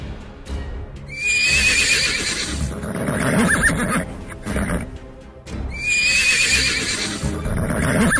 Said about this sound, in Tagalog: Isang puting kabayo at ito'y nakahinto na wari po'y nakaabang at naghihintay lamang sa atin